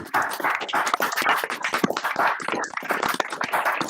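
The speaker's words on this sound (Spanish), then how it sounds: "abramos los micrófonos para darle un fuerte aplauso al magistrado" Online audience applauds a magistrate after a talk on Durango's electoral process, a dense, continuous patter of clapping lasting several seconds, close and fairly loud with no talk over it.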